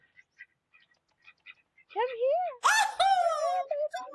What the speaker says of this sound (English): I was greeted by ducks.